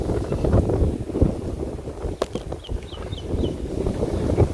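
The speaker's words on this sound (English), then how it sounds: "It's quite windy." Wind gusts across a riverside in the Philippines, a steady low rumble buffeting the microphone, with a few faint bird chirps in the middle.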